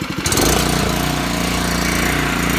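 A power spreader's small engine starts up and runs wide open, a loud steady close mechanical chatter and drone continuing without a break after a brief sputtering start.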